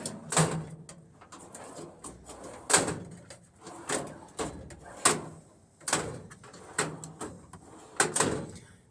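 Performax rolling toolbox drawers slide open and shut over and over in a steady rhythm, each pass ending in a sharp close-by clack, about a dozen times with no talking.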